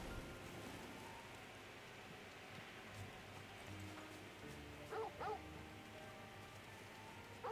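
In Final Fantasy 16 a dog yips and barks a few times in short bursts, fairly close, over a soft background bed of rain and ambient game sound.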